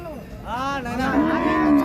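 Cattle at a large bull market low out in a single loud, close moo that rises and holds for nearly two seconds over a faint crowd background.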